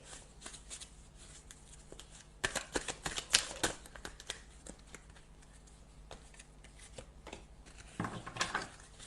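Tarot cards shuffled by hand for a five-card reading: a close, dry run of riffling and slapping card sounds in uneven bursts, with a denser flurry near the end and no talking.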